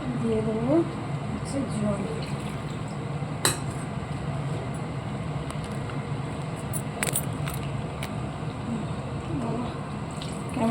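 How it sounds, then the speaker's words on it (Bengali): Water is poured into a pan of cooked meat in a home kitchen, a steady low splashing wash with occasional metallic clinks, faint and close. "মাংস তুলে নিয়েছি এবার জল দিয়ে দেবো"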